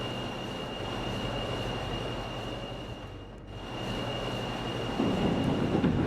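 A New York City subway train of R160 Siemens cars runs on the M line, with a steady loud rumble of wheels and motors, a thin high whine, and a brief dip before the roar swells again.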